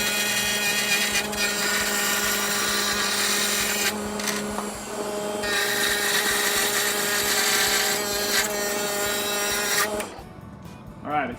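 A wood lathe spins with a steady tonal hum while a chisel cuts into the turning workpiece, giving a continuous scraping rasp that shifts in texture and then stops near the end.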